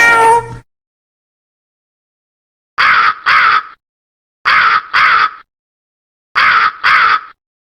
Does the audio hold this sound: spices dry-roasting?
no